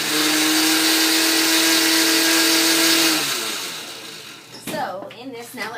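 A blender grinds zucchini and squash into a purée for an exotic pet, a loud steady whir that winds down after about three seconds, followed by clattering and a voice.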